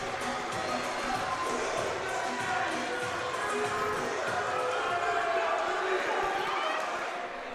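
Spectators at a high school varsity boys wrestling match between Pope John and Mount Olive cheer and roar steadily at close range under an announcer's commentary, the crowd noise swelling through the middle of the clip.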